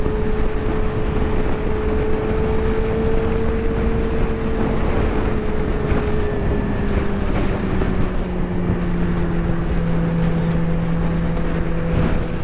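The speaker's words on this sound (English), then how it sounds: "So that was second gear, no A or B mode, full throttle, little merge and a good cutoff" A 2023 Suzuki GSX-R600 at full throttle in second gear merging onto a freeway, its engine note rising in a steady loud drone under constant wind roar throughout.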